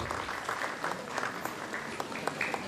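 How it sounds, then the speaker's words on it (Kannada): Crowd at an honouring ceremony in Bidar claps steadily for a few seconds, a fairly close, even patter of many hands. "ಎಲ್ಲರೂ ಚಪ್ಪಾಳೆಯನ್ನು ತಟ್ಟಬೇಕು."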